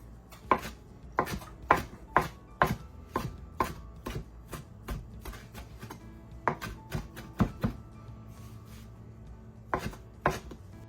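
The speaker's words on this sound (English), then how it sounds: "we're gonna chop mint, fresh mint" A knife chopping fresh mint on a cutting board, sharp close knocks in quick rhythmic bursts with short pauses between runs, no voices.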